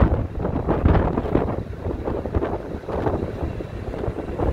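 Steady wind buffets the microphone on the open deck of a ferry crossing from Cape Hatteras to Ocracoke Island, a loud continuous rumbling roar with gusty swells and no talk.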